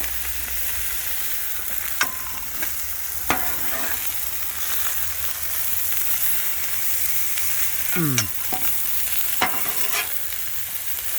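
Venison smash burgers sizzle steadily and loudly on a hot griddle, a constant hiss broken by occasional sharp spatula scrapes and clicks.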